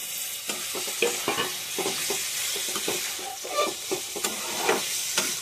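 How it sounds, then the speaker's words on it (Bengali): Eggplant pieces stir-fried with spices in a kadai, a steady close sizzle broken by repeated scraping stir strokes at an uneven rhythm, with no talking. "এবার বেগুনগুলো দিয়ে দেবো, বেগুনগুলো একটু কষাই নেবো।"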